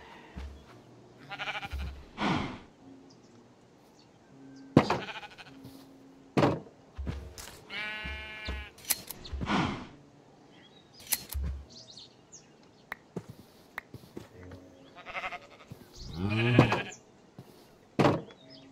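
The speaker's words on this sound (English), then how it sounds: "we have some sheep and some cows over here" Several Minecraft sheep bleat at intervals, some close and some farther off, mixed with short chirps and thumps in an otherwise quiet, game-like outdoor scene.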